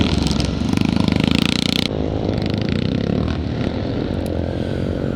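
Cecil Pearson JAP Special scramble motorcycle at a classic charity scramble in Northern Ireland, its engine roaring loud and close, then dropping to a steady rough drone as it moves off.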